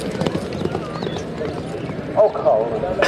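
Racing horse Golden Boy runs in a horse-riding race, hooves clip-clopping in a quick rhythm beneath a loud, continuous commentator's voice.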